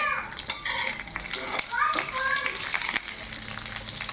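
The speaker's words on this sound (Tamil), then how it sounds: "சூடான பிறகு கடுகு உளுத்தம்பருப்பை போட்டு தாளிதம் செய்து கொள்ளுங்கள்" Mustard seeds and urad dal splutter in hot oil for a traditional mor kuzhambu, a crackling sizzle with sharp scrapes and pops, while faint voices murmur in the background.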